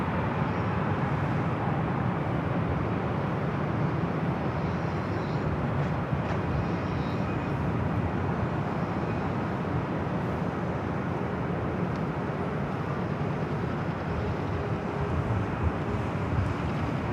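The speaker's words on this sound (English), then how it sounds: "Got a Delta 767 at 300ER up next." Delta Boeing 767-300ER airplane at LAX airport, a loud, steady broadband jet roar with wind buffeting that holds at a constant level throughout, with no voices over it.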